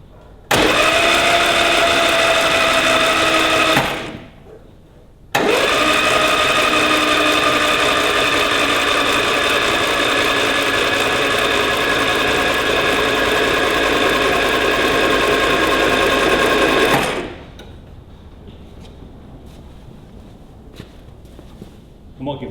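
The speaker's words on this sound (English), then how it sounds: "So I'll pull the fuel pump off, let's give it a spin over." A Mini 1275GT engine, its floats stuck open and the fuel pump disconnected, cranks over loudly and steadily for about four seconds, stops briefly, then spins again for roughly twelve seconds before falling quiet.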